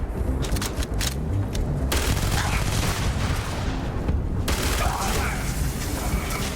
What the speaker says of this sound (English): So they're throwing grenades and shit.